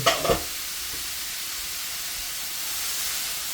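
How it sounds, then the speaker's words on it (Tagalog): Pansit gisado (fried noodles) stirred in a pan, a few quick scraping stirs at the start giving way to a steady, close sizzling hiss of frying and steam. "Okay, haluin natin ngayon"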